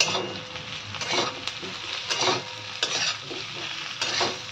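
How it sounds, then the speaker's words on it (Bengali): Diced potato frying with onion in a hot pan: a steady, close sizzle swells with stirring scrapes about once a second. "আলুটা পেঁয়াজের সঙ্গে ভাজতে শুরু করব।"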